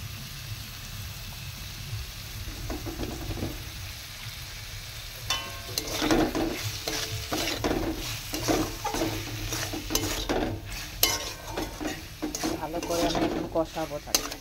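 Snails stir-fried with ground salt in a pan, giving a continuous sizzle that grows busier and more textured midway as scraping, clattering stirs pile up, close and fairly loud, with no voices.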